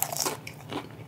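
A crisp bite into a crunchy deep-fried eggplant stick, a snack made from sliced eggplant, giving a short close crackling crunch followed by a softer second crunch, with no talking.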